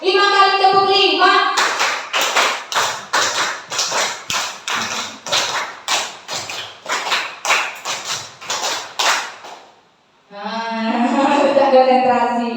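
A group claps in a steady pattern of sharp, evenly spaced sets at a positive-culture teacher training session. The claps stay loud and close for about eight seconds, then stop, and a voice starts speaking.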